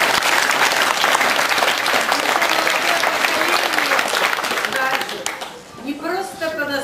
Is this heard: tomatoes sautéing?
no